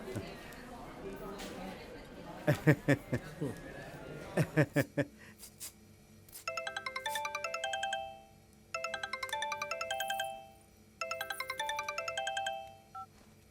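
A mobile phone ringtone plays in repeated melodic bursts after some rustling and clacking sounds, the chiming pattern recurring three times at moderate volume.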